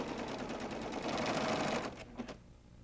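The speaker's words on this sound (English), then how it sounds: "I'm just going to serge right off the end." A serger sewing machine stitches quilt fabric in a rapid, steady whir of needle strokes, then slows and stops near the end with a couple of brief clicks; no talking.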